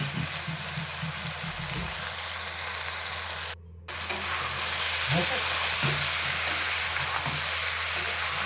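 Chopped yardlong beans with ginger-garlic paste frying in a pan give off a loud, steady sizzle with occasional stirring scrapes. The sizzle cuts out briefly partway through, and a voice talks faintly underneath.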